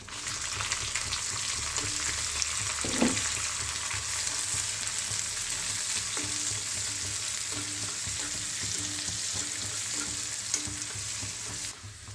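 Chopped onion and chili dropped into hot oil with fenugreek for a ripe mango pulissery curry, a steady close frying sizzle over a low background hum, with one brief knock partway through.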